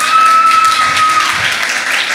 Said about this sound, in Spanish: ¿No le da un fuerte aplauso a Dios?